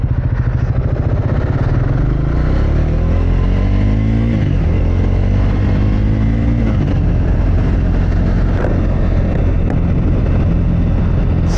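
A Triumph Scrambler 400X motorcycle engine runs loud and close during a test ride, with a steady throbbing drone and gear changes that shift its pitch, plus wind noise throughout.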